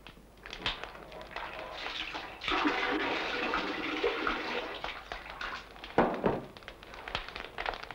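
Water gushes and splashes continuously with occasional thuds and knocks as freshly churned butter is washed with cold water in a basin, fairly close and moderately loud.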